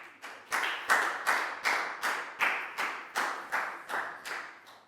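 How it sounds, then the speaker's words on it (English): A class of students claps for a classmate in an English lesson, about a dozen sharp, evenly spaced claps in unison, moderately loud, with no talking. "Big round of applause for Dan,"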